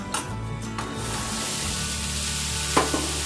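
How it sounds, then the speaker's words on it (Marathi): Peas and potatoes in Malvani masala sauté in hot oil. After a few clanks at the start, a loud sizzle swells and then holds steady, with brief stirring scrapes near the end. "आता हा तेलामध्ये चांगला असा परतून घ्यायचा"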